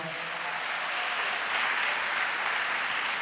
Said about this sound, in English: Please give them all a nice big round of applause.